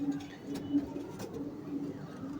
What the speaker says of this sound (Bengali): দেখেন কত সুন্দর সুন্দর কবুতর